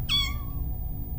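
A short cartoon cat meow sound effect, a single clear, close, rising-then-falling mew lasting under half a second over a low background rumble.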